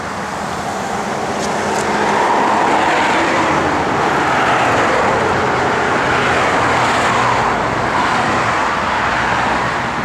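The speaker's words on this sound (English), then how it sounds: "It's got brand new Flowmaster dual exhaust on it." A 1964 Buick Riviera with brand new Flowmaster dual exhaust idles nearby, giving a steady, loud, even rumble that holds without pause throughout.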